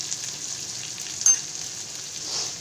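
Garlic, chopped onion, black cumin and chili powder fry in oil with a soft, steady sizzle and one brief clink partway through.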